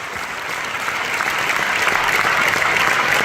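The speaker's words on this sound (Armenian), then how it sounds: "Հանդիսատեսը շարունակում էր բուռն ծափահարել ու բեմ հրավիրել վարպետին։" A concert audience claps enthusiastically after a festive anniversary concert, calling the master back to the stage; the thick, continuous wall of applause swells slightly and stays loud throughout.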